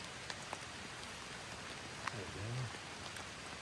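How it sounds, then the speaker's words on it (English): Steady rain patters on a tarp and the ground at a hiking campsite, a dense close hiss with scattered drops, while someone speaks briefly under it. "The rain's really starting to pick up"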